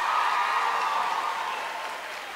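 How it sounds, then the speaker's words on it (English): An audience at a university information session applauds in a steady, dense wash of many hands that slowly fades a little, with no voices standing out. "Can we give them a round of applause?"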